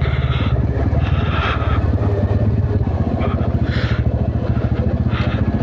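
A motorcycle engine-brakes down a steep mountain road near Darjeeling. The close, loud engine drone stays steady and throbbing for the whole stretch, with a faint rattle underneath.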